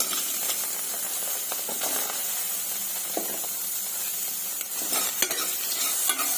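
Coconut pieces fry in a pan over medium flame, a steady close hiss and crackle running throughout with occasional light scraping stirs.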